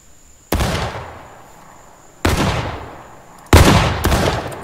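Three loud, close musket volleys from a drilling company in the War of Rights game, sharp cracks at uneven intervals, each trailing into a long rumbling echo, the last followed quickly by a fourth report.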